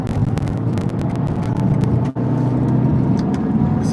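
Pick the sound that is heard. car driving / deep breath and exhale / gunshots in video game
car driving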